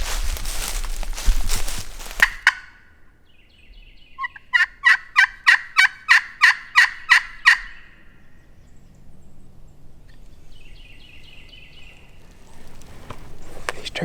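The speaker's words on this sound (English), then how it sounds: "he gobbled down here in this bottom" A wild turkey gobbles in a loud rapid rattling burst of about ten pulses from down in a bottom, with quieter calls and rustling around it outdoors.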